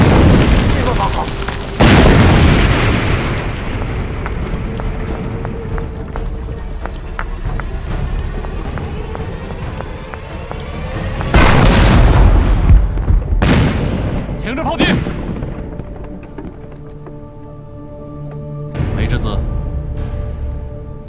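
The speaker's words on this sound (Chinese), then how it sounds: "待会等炮声停了之后，我们多准备一些石头" Booming artillery fire and heavy explosions from a war film set in the anti-Japanese war, with Japanese tanks advancing: a sustained roar of blasts, then several sharp, loud detonations near the end, with occasional voices.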